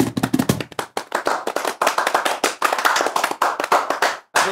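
A studio audience at a Punjabi comedy tea-time show claps in a close, loud burst of dense, uneven applause that carries on steadily for several seconds before breaking off briefly near the end.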